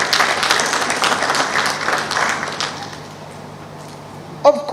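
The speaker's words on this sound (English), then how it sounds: "Please clap for His Excellency General Yoweri Kaguta Museveni." Audience applause at a taxpayer event in Uganda, a dense patter of many hands clapping that fades toward the end, with a faint voice and a brief knock at the close.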